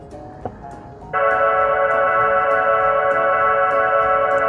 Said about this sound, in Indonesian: Yang pertama, itu suara kayak mobil listrik futuristik seperti ini.